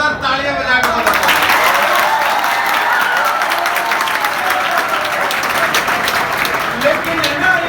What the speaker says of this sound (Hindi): तो एक बार जोरदार तालियां बजा के बताओ।